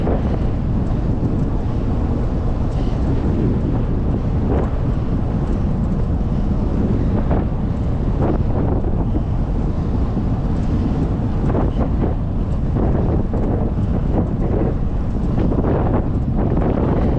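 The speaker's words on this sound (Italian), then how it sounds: "Sentite il vento, il rumore del vento quando guarderete il video." Heavy, constant wind buffeting rushes over the microphone while cycling through the Euganean Hills, loud and unbroken for the whole stretch.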